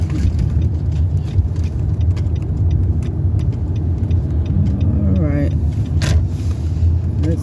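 A car engine idles and rumbles steadily up close, with a brief whine and soft clicks near the end as the vehicle slows and settles.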